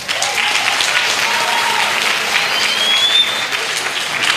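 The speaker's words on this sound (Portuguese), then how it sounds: "eu vi os aplausos" An audience at a debate or panel talk applauds after a question, a dense, steady clapping that holds at full strength for about four seconds.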